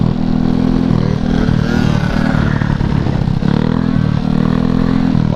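A two-stroke Honda Elite scooter engine runs loud and close, holding a steady buzzing drone with slight rises and dips in revs and faint clattering, alone with no voices.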